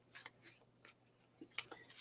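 Deck of cards being shuffled at a psychic reading, several quick crisp riffling bursts close to the microphone, separated by short quiet gaps, with no talking over them.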